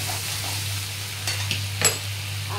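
Chicken being stir-fried into kosha in a pan, a constant close sizzle with a low steady hum underneath and a few brief scraping stirs toward the end.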